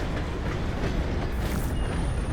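A train rolling in within the Red Dead Redemption 2 game, a loud, dense rumble of wheels and rail noise filling the scene steadily from start to finish with no voices.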